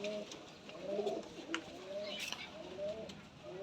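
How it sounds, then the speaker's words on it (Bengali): Rajshahi Giribaz pigeons coo softly at a loft, with repeated low rolling calls close by and a brief rustle partway through. "এই দুইটা হচ্ছে গরমা কবুতর"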